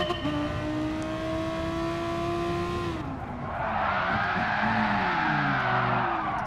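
Audi R8 in Gran Turismo Sport, its engine droning at a steady high pitch, then dropping as the tires squeal in a long skid, loud and close, with no talk.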